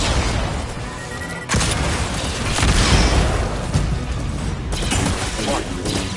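Barrage explosions in the Star Wars Jedi: Survivor video game, a dense, continuous roar of booming blasts and crashes with a sharp heavier hit early on, mixed under game voices.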